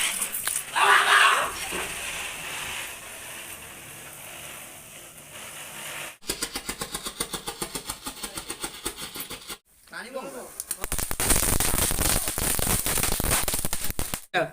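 Diwali firecrackers burst outdoors in dense bursts of rapid crackling, loud and close in the second half after a quieter stretch, with voices talking in between.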